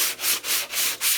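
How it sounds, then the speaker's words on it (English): Hand sanding on wood: steady back-and-forth rasping strokes, about four passes in a quick even rhythm, close and loud. "I just sand it in one direction at a 45 this way"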